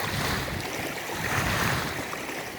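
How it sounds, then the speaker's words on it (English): Choppy water slapping and churning on Florida's Indian River lagoon under a steady 10–15 mph north-northeast wind, a continuous close wash of broadband wave noise with wind buffeting the microphone throughout. "Wind's coming out of the north-northeast at about 10 to 15 miles an hour, which is just enough to chop this up real good."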